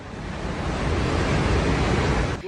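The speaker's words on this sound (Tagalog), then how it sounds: "rinig na ang pagragasa ng tubig sa pagitan ng mga bundok" A loud, continuous roar of floodwater rushing between mountains in Nepal, broad and steady like a powerful torrent, with no voices.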